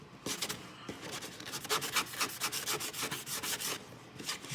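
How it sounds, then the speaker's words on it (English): A fine sanding sponge scrubs an acrylic plexiglass sheet in rapid repeated strokes, a close, steady rhythmic rasping with no talk. "what you need to do first is just sand this thing out"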